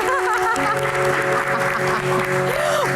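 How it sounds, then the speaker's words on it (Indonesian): Audience applause at the end of a Q&A talk show segment, a steady continuous clapping wash lasting the whole stretch, with some tonal music or voices faintly underneath. "Oke, tepuk tangan."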